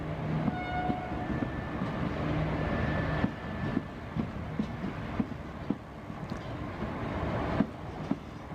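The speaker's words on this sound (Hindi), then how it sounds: "AEMU पास से गुजर रही है, SR साउथ रेलवे" An AEMU electric multiple unit train of South Railway passes at a distance with a steady rumble, regular clickety-clack wheel beats and faint horn tones, no voices.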